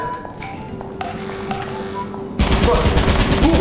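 Weapons firing in Lethal Company, a dense, rapid burst of gunfire that suddenly grows loud partway through, after quieter ticking and tapping sounds, with voices occasionally heard.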